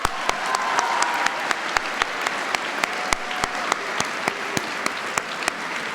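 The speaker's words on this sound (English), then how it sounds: "join me in giving a round of applause to Doc Mornelli" Applause at an all-school assembly, a dense wash of clapping from a seated audience with sharp individual claps standing out close by, steady throughout.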